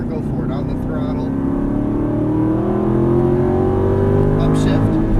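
An Aston Martin V8 Vantage accelerates hard on a race track, its engine note climbing steadily in pitch and growing louder through the run, with a driving instructor's voice talking over it.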